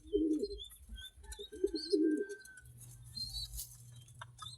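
Pigeons in a breeder loft coo in soft, throaty bursts, two or three rolling calls close by, with light rustling, a faint chirp and a low background hum.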